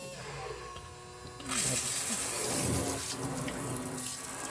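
A portable rechargeable camp shower pump draws water from a bucket and sprays it. A quiet hum gives way to a sudden loud, steady hiss of spraying water close by, with a voice heard briefly.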